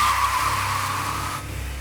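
Sound effect of a speeding bus braking suddenly to a stop: a loud, sustained tire squeal over engine rumble that cuts off near the end, close and alone.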